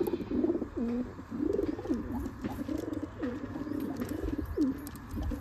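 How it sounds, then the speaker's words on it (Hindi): A very young wild pigeon chick coos continuously at close range, soft repeated warbling calls over a steady background hiss. "जंगली कबूतर"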